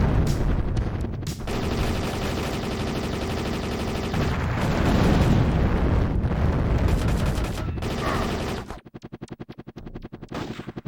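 Dense, continuous gunfire and explosions in a Sega Saturn shooter game, loud and distorted, ending in a rapid stuttering burst of shots.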